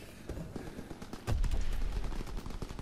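Gunfire from a WWII-era gun in a first-person shooter game, a quiet stretch giving way to a loud, dense burst of rapid shots that keeps rattling on close and heavy.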